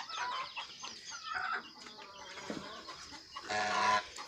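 A hen and her chicks in a cage on a small farm, with soft clucks and faint high chick peeps mixing close by at low volume.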